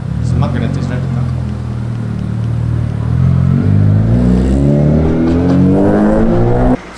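A Proton Satria's engine idles close by with a steady low drone, then revs up and down as the car is moved, with people talking over it before it cuts off near the end.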